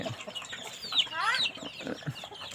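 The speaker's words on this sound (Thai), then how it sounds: "เสียงเป็ดเสียงไก่" Chickens and ducks on a small Thai farm where pigs are also raised: a burst of squawking, rising clucks from the chickens mid-clip, with scattered softer bird calls and faint background noise around it.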